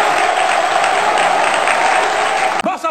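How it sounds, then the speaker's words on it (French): A lively audience at a comedy show applauds loudly and continuously, thick clapping that cuts off abruptly near the end. "Applaudissez pour ce monsieur."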